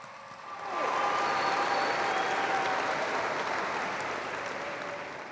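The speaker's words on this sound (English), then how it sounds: "Let's give them again a round of applause for their accomplishments." A large crowd at a high school graduation ceremony breaks into applause, swelling quickly into a broad, sustained roar of clapping that slowly tapers toward the end.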